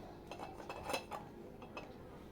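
Dishes and pans clink and clatter in a toy baby kitchen as fried greens are dished out, a few quiet, scattered knocks and scrapes close by with no talking.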